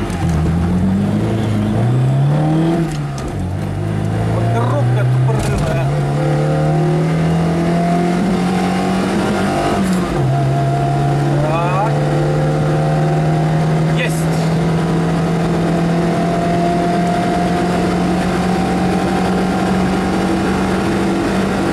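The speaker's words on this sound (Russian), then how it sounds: "Так, сейчас мы пропустим здесь автомобиль. Сейчас мы выйдем с песта" A VAZ-2103 with a modified cylinder head runs on a race track, its engine droning loud and close from onboard, revving up through gear changes into a sustained rising hum while other cars pass.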